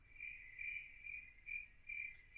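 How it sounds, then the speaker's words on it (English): Crickets chirping in a steady, close stand-alone sound effect, with a few repeated trilling pulses and no voices. "crickets"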